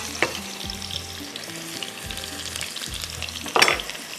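Steady oily sizzling and crackling of onions frying in hot oil in a pan for chicken steam, with a few stirring scrapes and a louder spatter burst near the end.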